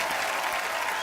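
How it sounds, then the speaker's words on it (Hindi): Studio audience of a comedy talk show breaks into loud, sustained applause, a thick wash of clapping with no gaps and no voices on top. "तालियां और जोरदार होनी चाहिए"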